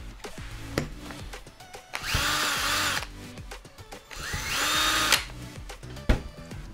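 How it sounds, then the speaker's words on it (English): A power drill whirs in two loud bursts as it bores holes through a cap into a chamber, with handling clicks and small knocks between the runs. "Then we need to drill two holes through this cap into this chamber."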